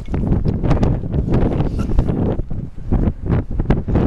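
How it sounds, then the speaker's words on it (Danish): Strong wind roars and buffets the microphone on a summit in the Atlas Mountains, loud gusts rising and falling continuously with no voices. "Jeg tror ikke, man kommer til at høre det så meget, fordi det blæser rimelig godt."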